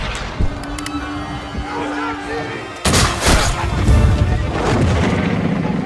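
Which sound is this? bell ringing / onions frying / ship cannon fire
ship cannon fire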